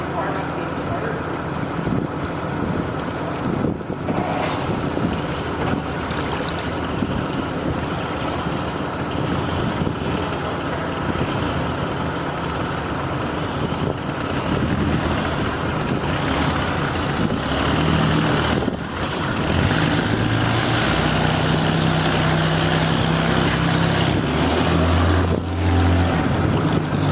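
A 1957 23-foot Lyman runabout's engine runs as a loud, continuous rumble out on the water, with wind and splashing around it. It grows stronger toward the end.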